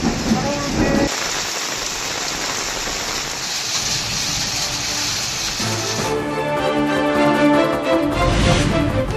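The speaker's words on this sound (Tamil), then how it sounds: "தேனி மாவட்டம் ஆண்டிப்பட்டி சுற்றுவட்டார பகுதிகளில் பலத்த காற்றுடன் கனமழை." Heavy rain pours down steadily with strong wind in the Andipatti area of Theni district, a dense, loud roar of falling water that swells and shifts throughout.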